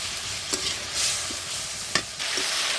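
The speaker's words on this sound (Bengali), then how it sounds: "আলুগুলো আমি ভালো করে মশলার সাথে কষিয়ে নিচ্ছি তেলের মধ্যে।" Potatoes stirred with spices in hot oil, sizzling loudly up close, with a few sharp spatula scrapes against the pan.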